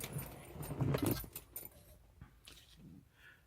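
Set of keys for a 1970 Datsun 240Z jangling up close, a bright metallic clatter peaking in the first second and a half, then thinning to a few faint clinks.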